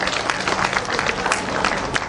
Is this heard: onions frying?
no